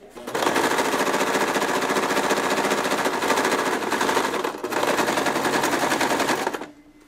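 A sewing machine runs at speed stitching the fabric body of a Waldorf doll with a back stitch, a loud, dense mechanical rattle that pauses briefly midway and then resumes before stopping.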